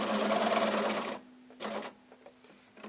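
A sewing machine runs a basting stitch on a ruffle blanket, a steady buzzing burst for about a second, then stops; a second short run follows after a pause, with quieter handling sounds between.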